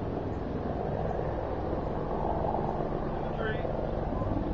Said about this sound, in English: You're going to hear a little noise from helicopters, and I'm sorry, the military's in the area doing a test.